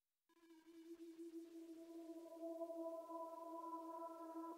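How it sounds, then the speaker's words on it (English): Static synth drone pad in Ableton Live for Wen-style dubstep, sustained steady tones with no filter movement, holding evenly and alone after a brief silent start. "which if you remove, the drone feels a lot more static."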